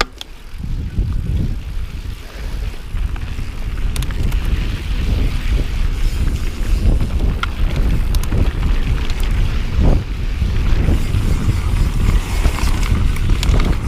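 Strong wind buffets the microphone during a downhill mountain bike ride on the exposed Zippity Do Da trail at 18 Road, Fruita, Colorado, making a loud, continuous low rumble with gusty surges throughout.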